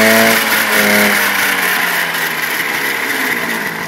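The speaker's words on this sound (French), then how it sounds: "vous pouvez écouter ce ralenti" A classic car's engine idling at low revs, a steady rough rumble close by with a faint high whine over it, alone with no voices.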